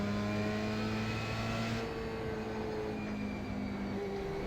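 Formula 3 race car engine in the racing game iRacing at Suzuka, a sustained high engine whine with steady tonal harmonics that shift pitch partway through as the car changes speed, continuous and prominent.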